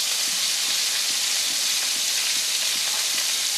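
Cumin seeds sizzling in hot oil while making tel potol, a steady loud hiss of frying that holds evenly throughout without a break.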